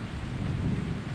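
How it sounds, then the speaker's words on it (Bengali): Deep thunder rumbles steadily through heavy rain, a loud, continuous low roar with a dense wash of rainfall layered on top. "দেখো মেঘ ডাকছে।"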